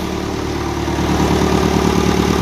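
A 1955 Ferguson 20 TEF diesel tractor engine idles close by with a loud, steady, low chugging knock that holds an even rhythm throughout.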